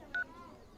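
A single short DTMF tone sounds as a telephone number is dialed, a brief electronic beep standing alone against faint background noise.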